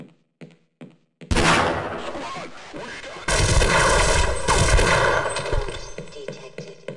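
Gunfire in the game Half-Life: a few sharp clicks, then a sudden burst of rapid, loud shots that swells into sustained, heavy firing with crashing impacts.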